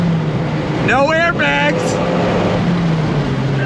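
A 1993 Dodge Viper RT/10 with its V10 engine driving, giving a steady low drone that runs throughout while someone speaks briefly over it.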